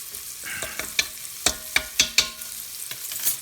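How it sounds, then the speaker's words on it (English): Flour being stirred into meat in a rice cooker pot with pepper, a spoon scraping and tapping in short irregular strokes over a soft, faint sizzle, close and alone. "now we have to cook the flour into the meat"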